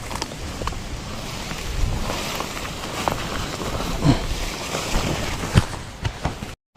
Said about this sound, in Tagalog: Ay, bumabayo na po yung hangin.